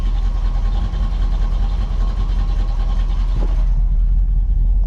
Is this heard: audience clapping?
no